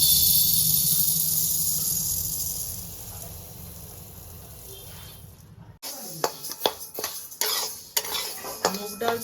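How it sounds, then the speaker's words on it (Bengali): Moong dal is dry-roasted in a dry pan, with a faint rustle of stirring at first, then a pause, then clear scraping and clinking of a spatula against the metal pan in irregular bursts. "চলুন এবার আমি মুগ ডালটা ভেজে নিই আগে শুকনো কড়াইতে।"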